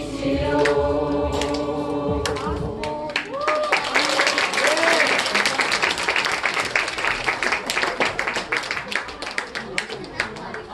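A church audience breaks into sustained applause at the curtain call of a Christmas Eve performance, dense clapping close and loud for most of the stretch, following a few seconds of sustained singing or music at the start.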